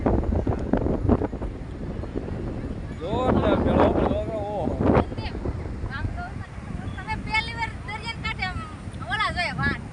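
Gusty, cold sea wind buffets the microphone on a seashore near Diu while people talk nearby, with birds or gulls calling in the background.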